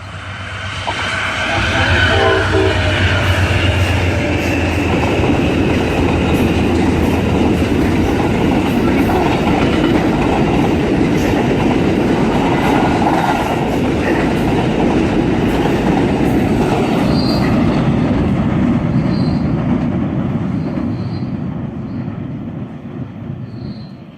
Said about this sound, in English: Now we're just waiting for the train.